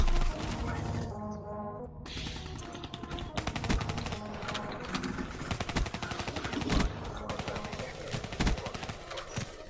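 Rapid automatic gunfire in Call of Duty: Black Ops 3, dense loud crackling bursts almost nonstop, with a voice talking in the mix.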